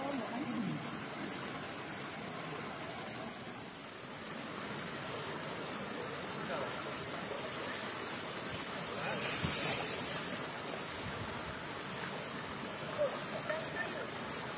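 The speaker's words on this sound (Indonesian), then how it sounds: "Tiba di Sungai Cisentor." The Cisentor river on Mount Argopuro rushes steadily over its bed, a continuous broadband wash of flowing water with some wind, heard close and unbroken for the whole stretch.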